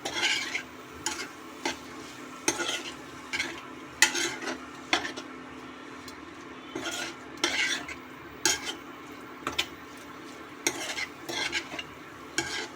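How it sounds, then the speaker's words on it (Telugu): Paneer tomato curry stirred gently in a pan, with repeated scraping strokes of a spoon against the metal over a soft, steady sizzle, close and unaccompanied by speech. "కొంచెం మెల్లగా కలపాలి. ఎందుకంటే పన్నీర్ అనేది మెత్త ఉంటుంది కాబట్టి కట్ అయిపోతుంది."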